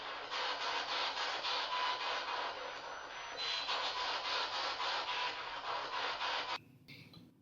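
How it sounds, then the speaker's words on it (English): Spirit box recording played back, a steady loud wash of rough, hissing static that sweeps continuously before cutting off abruptly near the end, leaving faint noise. "So I believe these are some spirit boxes"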